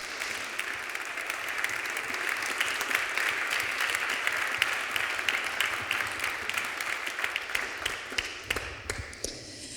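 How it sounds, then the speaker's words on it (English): Sustained applause from an audience at a forum after a string quartet's presentation, dense steady clapping for nearly ten seconds before thinning out at the end. "let's have a round of applause for this part of the presentation"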